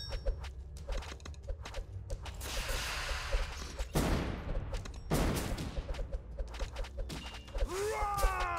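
Game gunfire from Kingdom Rush Frontiers rattles through a dense mix of whooshes, hits and effects, repeated bursts over a steady busy bed with a rising sweep near the end.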